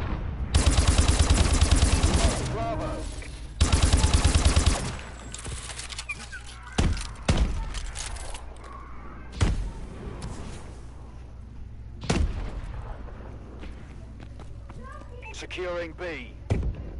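Ohm light machine gun firing in Call of Duty: Advanced Warfare: two loud sustained automatic bursts early on, then scattered single shots and short volleys under someone talking, with other in-game sounds between.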